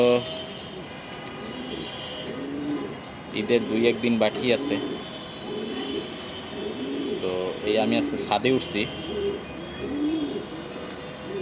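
A racing pigeon coos on a rooftop, its soft, repeated throaty calls returning in bursts beneath someone talking nearby.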